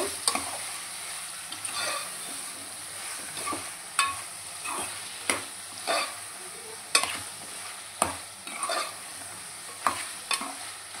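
Tomatoes cooking down with chicken in a pan, stirred with a utensil: regular scraping strokes about once a second over a soft continuous sizzle, close and fairly quiet.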